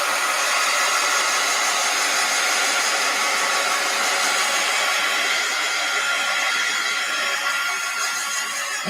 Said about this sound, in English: Let's hit that with the heat gun a little.